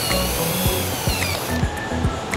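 A power driver fastens screws onto a battery BMS board while building a 12V lithium pack, giving several short, close, whirring bursts that stop and start in quick succession.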